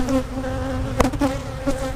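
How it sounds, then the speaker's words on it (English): Honey bees buzzing densely in an open hive crowded with bees, a close, steady droning hum with a few louder individual buzzes passing near, no voices. "They're loaded with bees."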